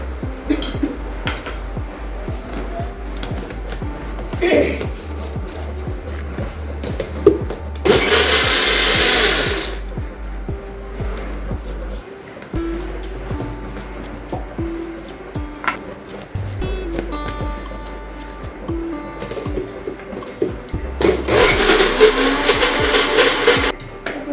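Mixer grinder blending besan batter for instant khaman dhokla, with two short loud whirring bursts of the motor amid clinks of utensils and a steel jar being handled.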